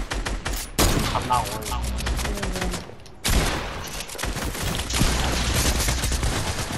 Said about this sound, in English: literally all three people are shooting at me